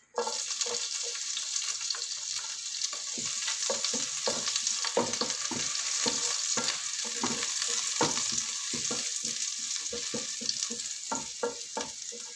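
Garlic fries in a pan for chicken kaldereta, giving a steady close sizzle under irregular scraping stirs and taps throughout, with no talking.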